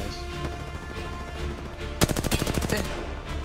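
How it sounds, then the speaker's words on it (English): Rapid gunfire in the Predecessor video game: a steady game soundscape gives way to a loud burst of quick, evenly spaced shots that ring out for over a second before fading, with no speech during the volley. "Wait, someone else is shooting."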